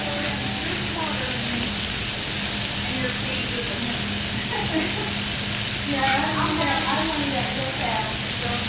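A burger patty fries on a hot griddle with a steady, loud sizzle and crackle throughout, and a person speaks briefly over the cooking sound.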